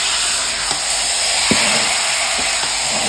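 Chicken pieces hit hot oil with fried onions in a pan and set off a loud, steady sizzle and hiss, broken by a few soft clinks and stirring sounds. No one speaks.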